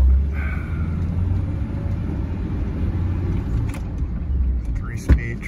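A 1940 Packard 180 limousine with a three-speed transmission driving along: a steady low engine and road rumble, quiet and continuous, with a brief louder knock near the end and voices talking over it.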